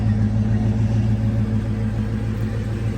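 A 1968 Ford Mustang S Code 390 GT V8 with all original drivetrain idling, a steady deep rumble with even low throb, close and loud with no talk.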